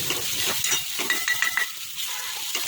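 Chopped tomatoes with salt are pressed and stirred in a hot pan, giving a soft steady sizzle broken by repeated scraping and squishing strokes of a spoon, close and moderately loud.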